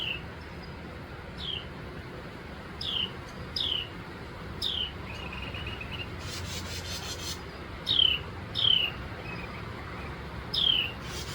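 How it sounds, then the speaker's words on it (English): Agitated birds call outdoors in a repeated series of sharp, high chirps and squeaks, moderately distant, over a constant hiss of insects. "I'm hearing the birds getting all worked up."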